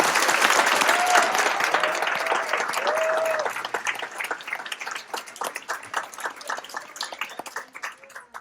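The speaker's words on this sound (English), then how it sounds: "Let's give another round of applause to our student speakers and Chelsea" Applause for student speakers at a school Black History Month reception, full and sustained at first with a voice briefly over it, then tapering into sparser, distinct claps.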